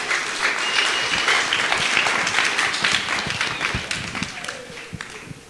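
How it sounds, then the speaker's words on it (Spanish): Wedding guests applauding during a church ceremony, a full burst of clapping that gradually thins and fades over several seconds, with a few scattered claps and some voices underneath near the end. "Fuerte los aplausos."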